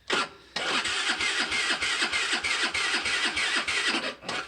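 A Zipp Vapor four-stroke scooter with a weak battery and cold engine cranks repeatedly without catching, the starter motor grinding in a steady rapid rhythm after a brief first attempt, loud and close.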